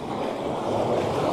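Ocean surf washes in on the shore, a continuous close roar of breaking water with some wind, building slightly louder toward the end, no voices.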